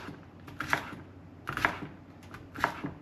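Carrots diced roughly with a kitchen knife: three spaced, crisp chops on a cutting board about a second apart, close by, over a low steady background hum.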